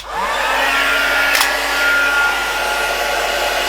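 A heat tool blows hot air in a loud, steady, close whoosh that starts with a brief rising whine and holds evenly throughout, with no talking.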